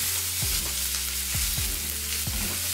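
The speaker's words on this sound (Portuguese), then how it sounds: "quando a frigideira começar a levantar fumaça, aí você pega e coloca o espaguete" Zucchini spaghetti sizzles loudly in a smoking-hot frying pan, a constant close hiss broken by a few scraping stirs, with no talking.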